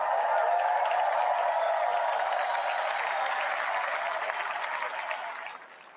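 Sustained applause and cheering from a large crowd at the Republican National Convention, loud and dense, holding steady before easing slightly at the end.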